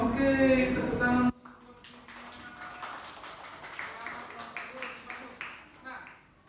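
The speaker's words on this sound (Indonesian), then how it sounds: "Oke, tepuk tangan." Classroom applause, a brief patter of hands clapping, then scattered, uneven claps and taps that fade and linger at moderate level after a loud voice cuts off.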